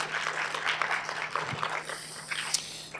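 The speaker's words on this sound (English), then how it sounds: "let's give them a quick round of applause," A small group claps briefly, scattered applause that thins out toward the end, fairly quiet and a little distant.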